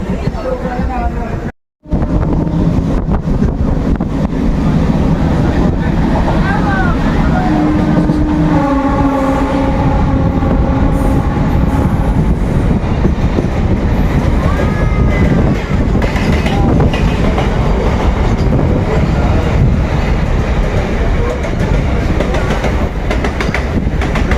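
A MEMU local train running from Purulia toward Howrah on the Bardhaman chord line, with steady loud rumble and wheel clatter throughout, a brief dropout early on, and occasional tonal squeals; voices talk faintly at times.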